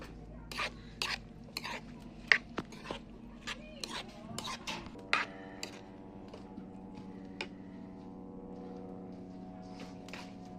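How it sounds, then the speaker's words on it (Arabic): Gaza jazmaz breakfast being stirred in a pan over a firewood fire, light metallic scrapes and clinks tapping irregularly against the pan, soft and close, with a faint steady hum and a hiss in the background. "حركي يا ابو حسن."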